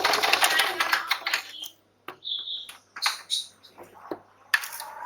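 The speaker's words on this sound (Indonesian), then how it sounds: "Jangan lupa dijahit di batas tindesan pertama." A sewing machine stitches a fabric pocket in short bursts of rapid mechanical whirring that stop and start, close and fairly loud, with someone talking in the pauses.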